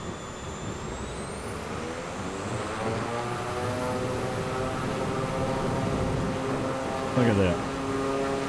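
A Draco X propeller aircraft in Microsoft Flight Simulator 2024 drones steadily through a takeoff run, a rising engine tone with harmonic whine, while someone talks briefly over it.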